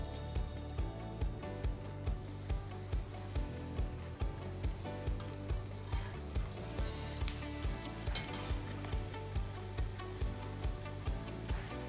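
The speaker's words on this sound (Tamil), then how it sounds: "ப்ரெட்டு வந்து பார்த்திங்கன்னா நல்லா கிறிஸ்பியாக ப்ரௌன் கலர் நல்லா வந்து வறுத்து எடுக்கணும்" Bread pieces fry in oil until crispy and brown for bread halwa, giving a continuous dense sizzle with regular, rhythmic stirring taps against the pan, close and loud.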